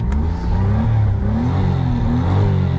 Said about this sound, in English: I'll give it some revs right now.